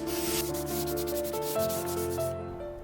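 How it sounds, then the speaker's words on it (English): Hand sanding on an antique wooden dresser with a small contoured auto-body sanding block, steady close rubbing strokes under a sustained tonal hum, stopping near the end. "These small contoured sanding blocks are intended for auto body work, but also work well for the areas I can't reach with the electric sanders."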